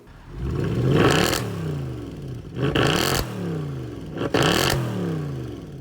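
A Mercedes-AMG C63 engine revs hard three times in succession, each loud blip rising sharply in pitch and then falling away, with a deep, throaty rumble between the bursts and no talking.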